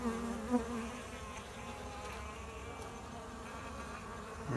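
Honey bees buzz steadily and close during an autumn inspection of a Layens hive, with a heavy frame of honey and open nectar lifted out, the hum continuous and unbroken with no talk.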